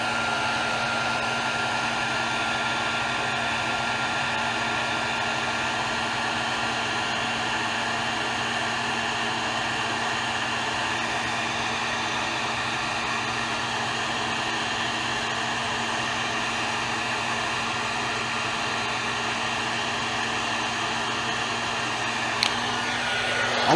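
A heat gun blows hot air in a steady, even whoosh with a constant fan hum, running alone without pause until a brief click near the end.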